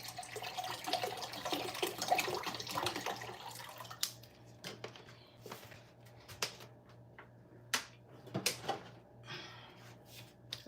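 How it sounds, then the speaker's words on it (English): Tap water runs into a sink as hands are washed, a steady close hiss for the first few seconds, then stopping and giving way to scattered clicks, taps and small handling knocks. "Let me wash my hand."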